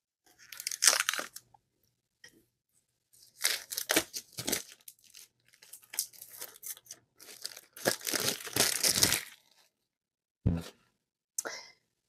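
Plastic wrapping torn and crinkled off a slate tile, in close, loud bursts of tearing and crackling separated by short pauses.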